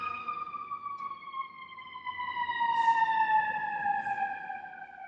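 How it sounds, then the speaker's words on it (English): A wailing ambulance siren on a city street sweeps slowly downward in pitch, fairly distant but steady, swelling slightly louder midway as it passes. "that's an ambulance going to Northwestern Hospital just down the street"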